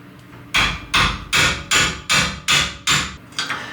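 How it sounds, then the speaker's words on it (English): A hammer strikes a seized metal part on a trailer eight times in a steady rhythm, each blow loud, close and sharp with a brief ringing decay. "that's what a hammer's for"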